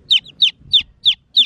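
Baby chicks peep close by with children gathered around them: five high, falling chirps evenly spaced in a quick rhythm, each one clear and alone with no talking.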